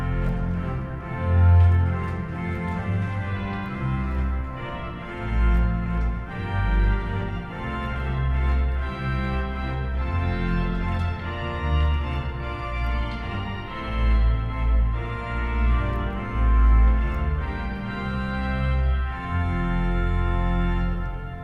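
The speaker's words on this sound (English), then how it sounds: "if we combine all of these stops, we get the Tutti of the choir division," Full tutti of the choir division on the pipe organ at Old St. Patrick's Cathedral in New York City, all stops combined into a dense, loud, sustained chordal texture with a strong low bass, filling a reverberant church without voices.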